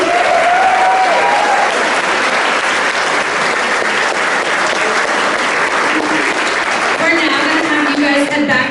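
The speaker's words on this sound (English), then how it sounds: "Please give a round of applause for our varsity athletes making it to regionals this season." A banquet hall crowd at a football awards dinner applauds varsity athletes, broad steady clapping holding loud and dense for the whole stretch, with faint voices and a few cheers rising near the end.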